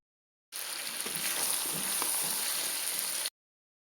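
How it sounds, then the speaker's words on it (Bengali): Milk and grated coconut heating in a pot on the stove for two kinds of semai, a steady soft sizzle and simmer that holds evenly for about three seconds with no talk. "এখানে দুধ আর নারিকেলটা জাল দিয়ে নিচ্ছি 2 আইটেমের সেমাই রান্না করার জন্য।"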